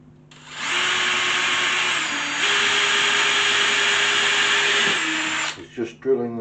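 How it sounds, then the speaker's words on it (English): Power drill boring a pilot hole through wood in a workshop, one steady high whine lasting about five seconds with a slight pitch shift, then winding down, followed by brief clatter. "we're going to drill a pilot hole."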